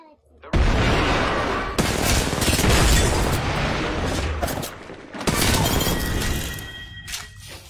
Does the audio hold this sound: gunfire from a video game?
yes